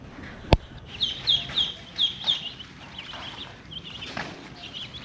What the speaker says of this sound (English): So we're gonna go ahead and get our little baby chicks in here.